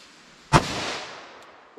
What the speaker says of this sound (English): See what I get out of my 4-inch Smith & Wesson 686 here.